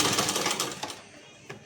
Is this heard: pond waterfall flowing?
no